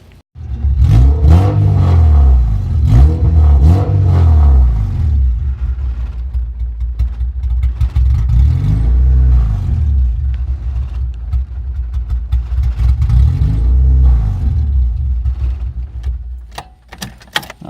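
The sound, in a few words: H2B-swapped Honda Civic EK engine revving, throttle response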